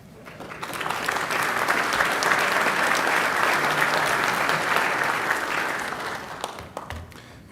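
An audience applauds winning competitors at a capture-the-flag cyber awards presentation, a steady roomful of clapping that swells in, holds for several seconds and tapers off with a few scattered last claps.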